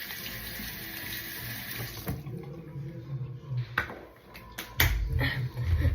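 Tap water runs and splashes while a squishy toy is rinsed under it, an uneven close gurgle that shifts and surges with handling sounds, quiet overall.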